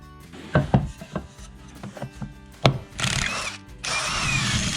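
A power drill drives screws through a pocket hole jig into 2x4 cross pieces for a sauna bench, with short bursts and knocks early, then two longer sustained whirring runs near the end.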